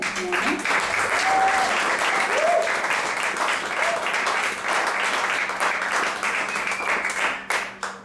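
An audience applauds the pianist at a live music performance at Cauz, dense clapping that stays loud and steady throughout, with a few whoops rising above it before it tapers off at the end.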